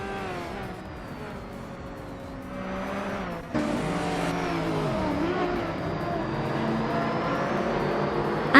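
A 1996 Porsche 911 racing car engine in a racing video game holds a sustained whining drone. It jumps abruptly in pitch and loudness partway through as it revs higher, then carries on at a strong steady roar.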